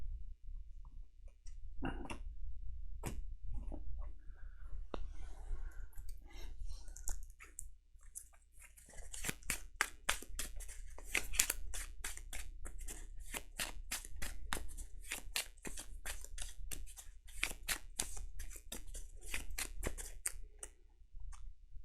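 Cards are shuffled for the Earthborne Rangers board game, giving scattered clicks at first and then a long run of rapid, crisp, close-up flicks and snaps; no one speaks.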